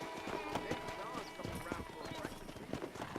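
Steady clip-clop of horse hooves at a brisk pace in Red Dead Redemption 2, with voices talking over the top.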